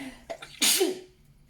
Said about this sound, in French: je viens d'éternuer